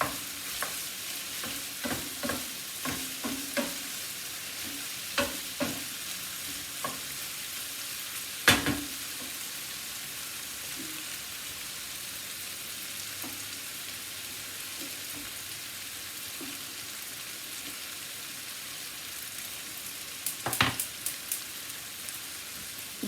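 Chicken stroganoff sizzles steadily in a pan while a utensil stirs it, giving scattered scrapes and clinks over a constant hiss, with no talk.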